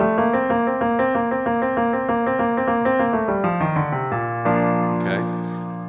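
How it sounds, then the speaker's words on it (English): A solo singer trills rapidly over a whole step, climbing a scale note by note in sustained, steady vocal pulses, close and clear with no talking. "we're going to widen that trill to a whole step. We're going to sing up a scale and go for 9 counts of trill"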